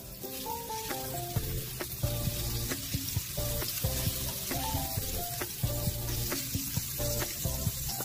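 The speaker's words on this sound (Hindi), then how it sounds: "अभी हम उसमें थोड़ा सा बटर डालेंगे" Butter sizzles and crackles in a hot pan, a loud continuous frying hiss with sharp popping ticks and faint scraping throughout, and no voices.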